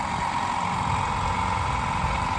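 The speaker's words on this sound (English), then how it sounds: "These are them new brushless motor things, direct drive." A brushless direct-drive motor runs flat out during a small van repair build, a steady, even whir with a faint high whine and a low rumble that never changes, close and alone.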